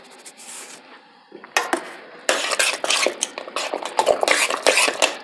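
A metal utensil stirs Creole seasoning into creamy macaroni and cheese in a pot, quiet at first, then loud, close scraping and clinking strokes in a steady, uneven rhythm.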